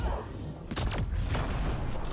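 Enemy gunfire in the video game Mass Effect Andromeda, on Insanity difficulty: a dense, loud volley of crackling shots and impacts with a sharp burst near the start, continuing steadily throughout.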